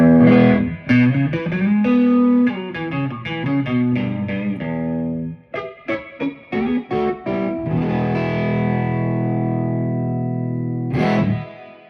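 An electric guitar rings through two amps into a Tone Master 212 cab with ceramic speakers, playing a distorted, chorus-tinged phrase of picked notes and sustained chords, loud and close with no talking.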